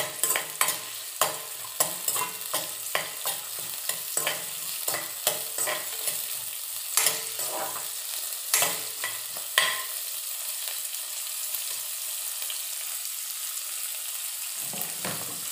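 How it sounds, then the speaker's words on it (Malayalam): Ginger, curry leaves and green chillies sautéing in oil for Kerala-style mango curry, a steady sizzle under repeated close clicks and scrapes of a spoon stirring the pan, the stirring thinning out toward the end. "ഒരു പൊടിക്കിഞ്ചി വേപ്പില പച്ചമുളക് ഇത്രയിട്ട് വഴറ്റി കൊടുക്കുക"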